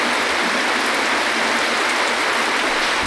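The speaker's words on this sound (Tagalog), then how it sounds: "Hindi magpapatinag sa ulan." Steady rain pours in Bali, a dense even hiss of drops on surfaces filling the whole stretch without pause, loud and close with no voices.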